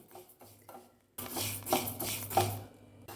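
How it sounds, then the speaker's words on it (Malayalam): Dry, gritty scraping and rustling of washed, dried rice grains dry-roasting in a metal pan, starting after a quiet second and continuing steadily, close by. "കുറച്ച് അരി കഴുകി ഉണക്കി എടുത്തിട്ടുണ്ട് ഇത് നമുക്കൊന്ന് വറുത്തെടുക്കാം"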